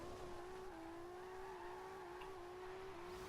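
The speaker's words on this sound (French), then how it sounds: "je drift encore, hein. Je burn encore, les gars." Toyota Supra drifting and doing burnouts in Forza Horizon 2, a steady high engine whine holding near constant revs without pause, loud and close with no talk over it.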